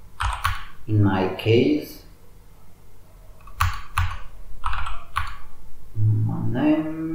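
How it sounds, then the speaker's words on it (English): Quick bursts of clicking keys on a computer keyboard come up close between stretches of someone talking, with short typing runs in between. "Okay, so I will type"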